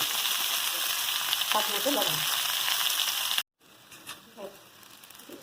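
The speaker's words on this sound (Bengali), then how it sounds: "আলুগুলি সিদ্ধ করে নিয়েছি, এখন এগুলি ভেজে নেব" Boiled potatoes seasoned with turmeric and salt fry in oil with a steady crackling sizzle. It breaks off abruptly, and a quieter stretch follows in which someone speaks briefly.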